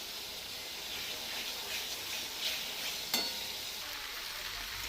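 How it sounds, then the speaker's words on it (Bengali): Spice paste with tomato and green chili frying in oil in a pan, a steady close hiss with a couple of brief stirring clinks, no talking. "টমেটো আর কাঁচা লঙ্কা সঙ্গে সব কিছু মশলা ভালোভাবে কষাতে থাকবো।"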